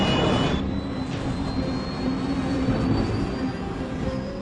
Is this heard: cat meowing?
no